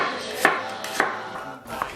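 A kitchen knife chops food on a cutting board at home as a husband prepares dinner, giving three sharp, fairly loud chops spaced about half a second apart, with no talking.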